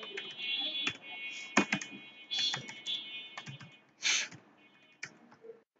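Close, quick bursts of clicking keystrokes on a computer keyboard as PHP code is typed into a WordPress theme template, with short pauses between flurries and no talking.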